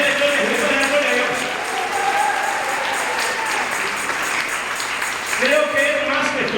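Church congregation clapping steadily and loudly throughout, dense rhythmic applause filling the room, with a sustained musical tone underneath and a swell near the end.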